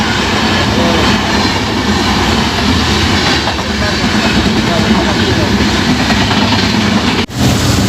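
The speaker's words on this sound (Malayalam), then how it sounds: "ട്രെയിൻ പോകുന്നു." A train passes close by with a steady, loud rolling rumble and rail noise that continues throughout, briefly cut off near the end.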